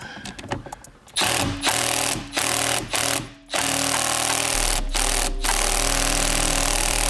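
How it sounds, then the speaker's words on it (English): An impact wrench loosens a 16mm bolt on a Magna Steyr-built vehicle: a few short, loud rattling bursts up close, then one long continuous hammering run. "we'll be good to get this 16mm bolt off. All right, grab your impact."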